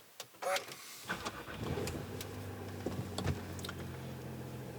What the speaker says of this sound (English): So as I said before, I will start up the engine.